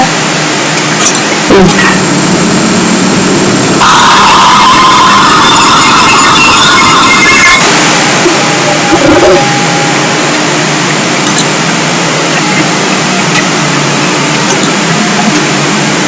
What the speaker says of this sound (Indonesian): Inilah sinyal gambar sinyal analognya untuk suara di jalan raya.